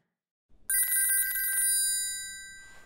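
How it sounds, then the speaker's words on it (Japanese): An electronic telephone ring starts after a brief silence, a rapid warbling trill that pulses steadily, then cuts off and fades out. "電話？"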